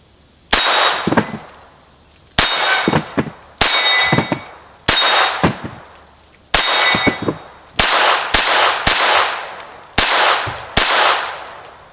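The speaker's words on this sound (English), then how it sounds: "Looks to me like most of the rounds hit right in the middle of that gong." Eight sharp metallic clangs from Ruger SR22 .22 pistol rounds striking an 8-inch steel gong, each ring decaying briefly, spaced about a second apart with a quick cluster near the end, loud and clear with no talking.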